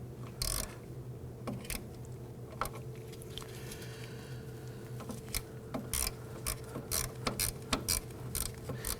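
A 1/4-inch ratchet with a short extension and shallow 8mm socket works a brake hardware bolt loose on a 2008-2011 Ford Focus wheel cylinder, with a run of sharp, irregular clicks over a steady low hum.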